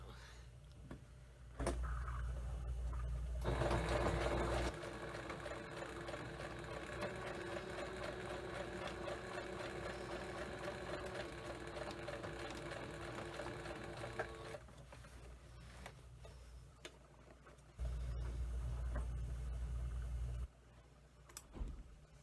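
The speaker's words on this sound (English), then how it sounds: "So at this point, the patch is sewn in around here." A sewing machine runs in two long bursts stitching a patch onto fabric, a rapid steady whirring punctuated by short pauses and brief handling noises, recorded close up.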